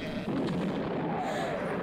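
Cannon fire in a 1974 swashbuckler film, a dense rumbling roar of artillery that swells and sustains for a couple of seconds, heavy and continuous with no clear separate shots.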